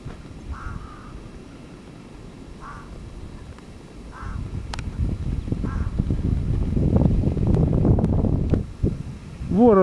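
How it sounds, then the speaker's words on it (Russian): Crows and rooks around hospital grounds: a few short, harsh caws at intervals, moderately distant, over rising wind and outdoor rumble that grows louder midway. "Воронам, грачам раздорье."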